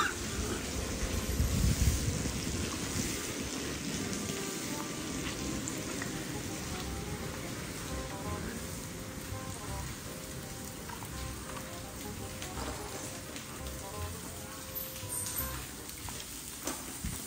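Rain falls in a steady, even patter with a soft hiss that continues unbroken for over fifteen seconds, with no talking.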